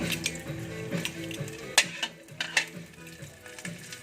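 Garlic sautéing in a pan for ginisang tahong, a Filipino mussel dish: a soft steady sizzle broken by a few sharp clicks and scrapes of a utensil on the pan, no voices.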